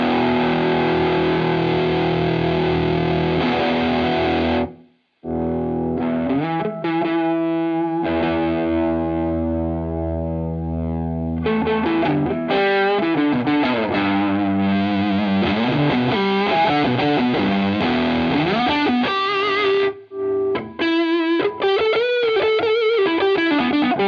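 Electric guitar through a Boss Metal Zone Waza MT-2W pedal with gain fully up, heavily distorted, playing sustained chords and bends, thick and saturated, with a brief pause around five seconds before aggressive riffing resumes.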